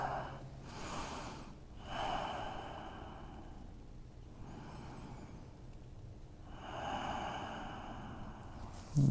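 Slow, audible breaths drawn in and released while lying on the right side during an intermediate to advanced yoga class, three or four long, soft inhale-exhale cycles up close.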